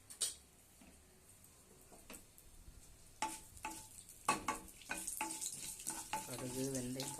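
Mustard seeds and fenugreek frying in hot oil in a kadai, giving faint scattered crackles and pops that grow busier toward the end, with light metallic stirring clinks and a soft sizzle rising at the finish.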